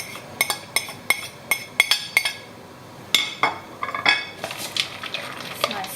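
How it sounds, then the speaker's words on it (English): A spoon clinks against a bowl while chopped almonds and lemon and orange zest are stirred into a mixture, a series of close, bright metallic taps followed by softer scraping and stirring. "So I'm just going to put that in there and stir it in."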